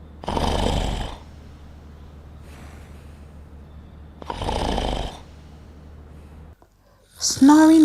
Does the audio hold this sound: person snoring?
yes